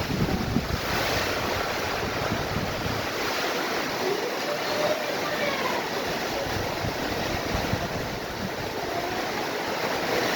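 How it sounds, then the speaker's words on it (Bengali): A first-of-the-year rainstorm with strong wind, heard as a loud, continuous broadband roar of wind-driven rain and gusts buffeting the microphone throughout, with no speech. "আমাদের এখানে দিনের বেলা ফার্স্ট বৃষ্টি তাই পুরো বৃষ্টিটাই আমি ভিডিও করতেছি"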